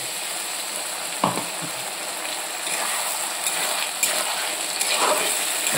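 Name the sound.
frying spice paste of ginger, garlic and chili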